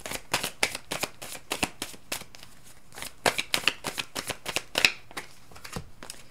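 Tarot cards are shuffled in quick, crisp riffling bursts, close and fairly quiet, with a brisk irregular rhythm of flicks and snaps and no talk over them.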